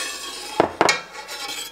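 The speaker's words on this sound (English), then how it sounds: "mix it and stir it around." A spoon stirring a quarter cup of non-chlorinated water mixed with calcium chloride in a small bowl, giving two quick close clinks against the bowl followed by soft scraping, with no talk.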